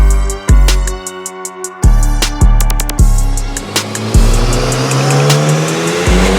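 A tuned BMW S58 engine revs hard on a dyno, loud and close, with repeated sharp rising pulls and abrupt gear-change drops.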